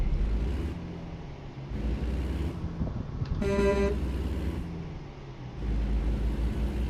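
A single truck horn blast, about half a second long, sounds in the American Truck Simulator video game over a steady low engine and road drone.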